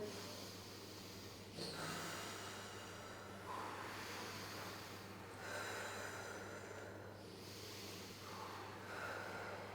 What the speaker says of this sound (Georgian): მოდი დავიწყოთ სუნთქვით, ღრმადი სუნთქვით.